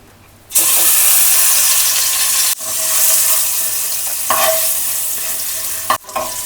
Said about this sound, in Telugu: నెక్స్ట్ ఇలా వేపుకోవాలి ఆయిల్లో ఫ్రై చేసుకోవాలి ఎగ్స్ని